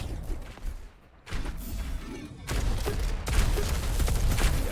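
Rocket launcher fire and explosions in an arena shooter duel match, a dense continuous barrage of loud blasts and booms with a brief lull near the start.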